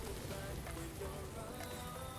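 Rain in Minecraft with the MC Eternal modpack falls as a dense, steady hiss of drops pattering on surfaces, even and continuous at moderate loudness, with no voices over it.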